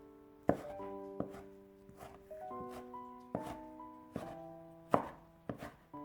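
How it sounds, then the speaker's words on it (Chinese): Steady, evenly spaced thunks of a knife dicing tomato on a cutting board, close and clear, with each chop ringing briefly. "再将西红柿切成薄片， 最后改刀切成小丁。"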